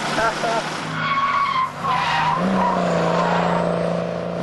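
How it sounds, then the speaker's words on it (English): A car drifts around the Darlington Park track, its tyres squealing and skidding in a long, loud screech while the engine roars underneath, shifting in pitch as the slide continues. "Mick was having a great time leaving huge tyre marks over a previously clean piece of bitumen"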